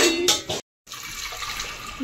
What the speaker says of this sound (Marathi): हे बघा आता याच्यामध्ये 2 डबे पाणी.